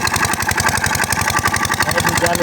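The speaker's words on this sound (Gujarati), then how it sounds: "ચાલુ કરેલું પાણીનું મશીન." Close and loud, a running irrigation water pump engine on a farm near a dam thuds at a rapid, regular beat, the mechanical chugging unbroken from start to finish.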